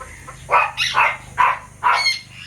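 An imported Janssen Bold Ruler pigeon gives four short, close coos in a loose rhythm, each a brief rising burst with quiet pauses between.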